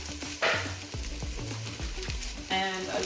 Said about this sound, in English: saute in the oil